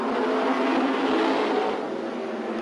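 Race car number 66 in a heat race at Danbury Racearena, a loud, steady engine roar that eases slightly toward the end.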